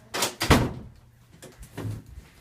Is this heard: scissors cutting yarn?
no